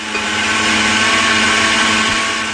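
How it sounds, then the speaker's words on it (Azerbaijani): Blender whirring steadily as it purees strawberries for a cake filling, a loud, close, continuous motor drone with a slight pitch dip near the end. "Çəliyimizi blenderdan keçirdirik."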